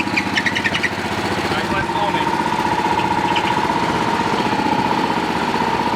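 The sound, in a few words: squeaking V-belt on a running Pluk-O-Trak orchard harvester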